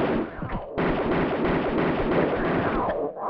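Automatic pistols fired at snow leopards in Tomb Raider 2 in the Tibetan Foothills, a dense rapid burst of loud gunfire with a brief gap, close and continuous.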